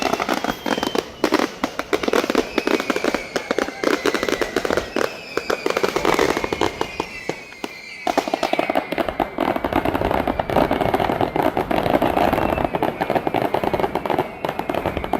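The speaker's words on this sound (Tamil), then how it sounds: "இந்த கடற்கரையில் தான் இப்போ வான வடிக்கை நடந்து கொண்டு இருக்கு" Continuous fireworks going off over a beach in Jaffna during a Catholic festival, a dense rapid crackle of bangs and whistling rockets, loud and sustained with a brief lull partway through.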